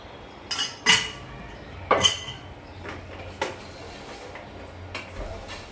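Metal clinks and clatters of pans and utensils come in a few separate sharp knocks as marinated chicken is set to cook in a pan on a gas stove, with quiet gaps between.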